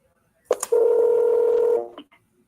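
Telephone number being dialed, a few quick keypad blips followed by one sustained steady tone lasting about a second, loud and close, with silence around it.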